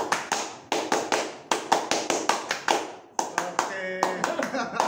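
Indonesian scouts perform tepuk pramuka, a patterned rhythmic clap of sharp, close hand claps in grouped beats with short pauses between phrases, and a voice briefly rings out near the end among the claps.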